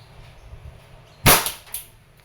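A WE airsoft 1911 MEU pistol fires, giving a sharp, loud crack followed half a second later by a second, weaker snap against a quiet background.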